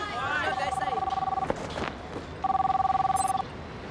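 A telephone rings out during a call, two clear electronic ring bursts each lasting about a second, separated by a pause, with talk around them.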